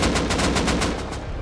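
Rapid automatic gunfire from the video game Rust, about a dozen quick, evenly spaced shots in a loud burst, then trailing off.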